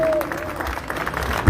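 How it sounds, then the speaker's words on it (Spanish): A festival audience at Cosquín breaks into a short burst of clapping, with scattered claps running under a voice for about a second and a half. "un aplauso para ustedes"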